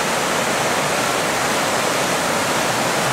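River water rushes over rocks in a loud, steady, hissing roar, close and unbroken, with no other sounds.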